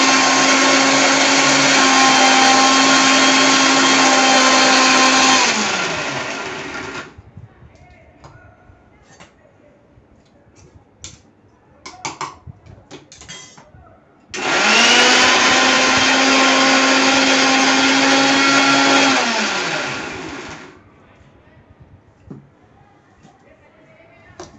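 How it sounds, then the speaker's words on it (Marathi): Mixer grinder grinding ginger and garlic into a paste without water, running loud and steady in two bursts of several seconds each, with a quieter gap of clinks and handling between them. "ते मी मिक्सरला लावून घेते."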